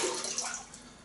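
Water pours out of a Wade ceramic shaving scuttle, a brief close splashing gush that tapers off.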